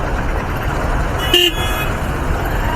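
Car horn honking once amid the steady rumble of a traffic jam on a Hyderabad road, with a bus and other vehicles crowding the lane; the single toot stands out over continuous engine and road noise.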